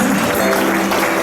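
Audience applause at a Taualuga Productions Tausala & Manaia dance competition, a dense continuous clapping wash across the whole moment, loud and close.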